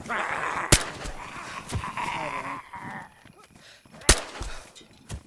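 Gunshots ring out in DayZ on the Livonia map, two loud sharp cracks standing out over a busy game mix with a few fainter reports in between.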